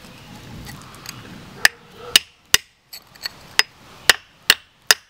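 Sharp metallic hammer blows striking a chisel on rock, about eight distinct hits at an uneven pace, ringing briefly after each strike.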